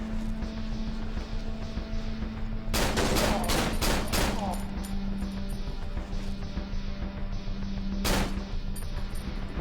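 Gunshots from the Cry of Fear video game: a rapid cluster of about six sharp, loud shots, then a single shot a few seconds later, over a constant low ambient hum.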